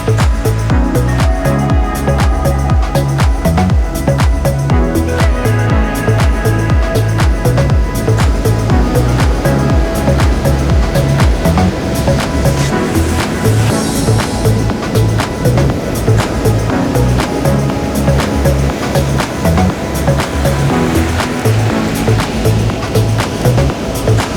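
Ocean waves break continuously on Whitefield Beach along the Copper Coast, a loud, steady roar of surf and rushing water with no pauses throughout.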